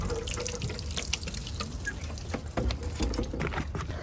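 Water runs steadily from a tap over a batch of rough rocks to wet them before cutting, a continuous close splashing and trickling with small drips, no voices.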